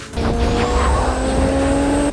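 A race car engine screams as it accelerates hard on nitrous, its pitch climbing steadily and loudly before cutting off abruptly.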